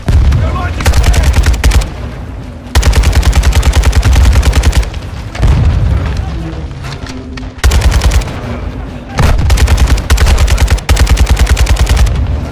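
Bursts of automatic gunfire in the Call of Duty Modern Warfare II campaign come in loud, dense volleys separated by short gaps, repeated several times, with shouted voices between them.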